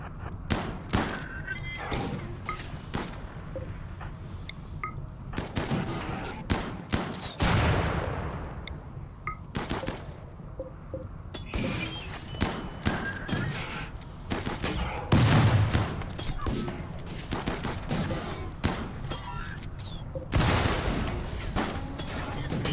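Rapid bursts of gunfire and heavy thuds from a RimWorld Biotech colony battle, loud and repeated across the whole stretch, with scattered single shots between volleys.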